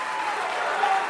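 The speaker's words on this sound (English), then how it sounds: "listen to that crowd come alive" A wrestling crowd at an indie show cheers and applauds in a steady, dense roar of clapping and voices, loud and sustained without pause.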